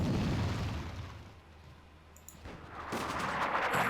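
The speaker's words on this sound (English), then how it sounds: "Let's just get the artillery firing at them." Artillery fire in the strategy video game Attack at Dawn: North Africa produces a rumbling explosive boom that swells, fades, then rises again into a second noisy blast, moderately loud with no voices.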